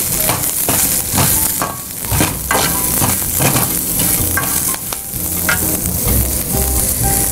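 Beetroot pieces fry loudly in a pan and are stirred repeatedly, strong sizzling broken by rhythmic scraping strokes, close up, with no speech.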